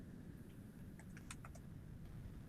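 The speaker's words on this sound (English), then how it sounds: "you can see I'm typing a bunch of different things" Fingers tapping on a Chromebook keyboard, a short run of light, quick clicks at moderate distance over a faint background hum, no talking.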